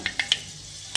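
Four small, sharp pops of fenugreek seeds spluttering in hot oil, spaced irregularly over a quiet background.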